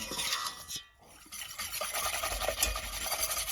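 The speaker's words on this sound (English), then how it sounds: "And just keep whisking till it thickens." Meadowsweet crème brûlée custard is whisked in a pan, a steady close scraping and swishing of the whisk against the metal, with a brief pause near the start before the stirring resumes.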